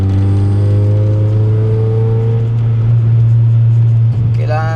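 Steady, loud low engine drone from inside a car pushing to overtake on a road trip toward the Kaybiang Tunnel, continuous throughout with a brief rustle near the end.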